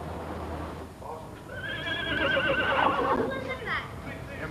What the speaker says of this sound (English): tends to his favorite horse